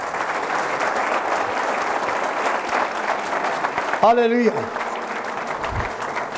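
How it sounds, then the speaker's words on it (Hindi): A church congregation applauds, a dense, steady wash of many hands clapping throughout, with one voice briefly calling out over it midway. "तालियों से खुदा के नाम को जला लो।"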